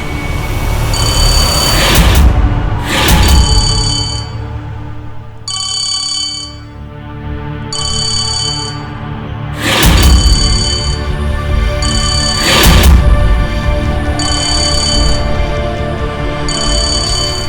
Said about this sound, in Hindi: सांझ फोन उठा।